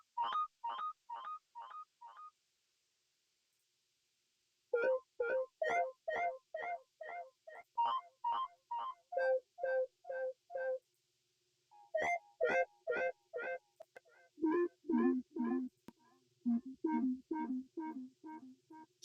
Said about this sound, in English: the next sound is this lead, which is a one shot from Dyap and Damask's Ruins one shot kit